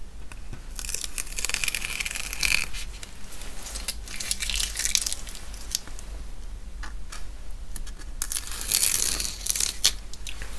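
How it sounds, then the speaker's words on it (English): Masking tape being peeled off a finished acrylic painting of exotic trees, several close ripping tears in bursts with short pauses between, crisp and alone without talk. "And now it's time to remove the masking tape."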